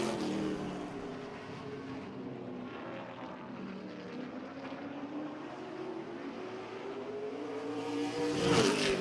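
A race car on a racetrack at the Jefferson season opener drones past at a distance, its engine tone rising and falling steadily, then swelling louder as it nears at the end.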